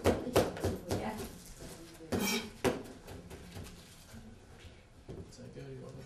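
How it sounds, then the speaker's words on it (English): Vegetables being chopped into roughly quarter-inch pieces on a cutting board, with several sharp knife knocks at uneven intervals, loudest early on, under a person talking. "I'm going to chop these 1/4 inches or so"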